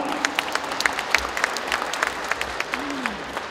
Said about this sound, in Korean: 우리 장현달 전 의원님 건강하시기를 기원하는 의미에서 큰 박수